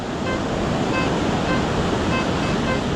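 A metal detector on a beach gives a mid-tone buzzing signal, a series of faint, evenly spaced electronic tones half-buried under loud, constant surf and wind.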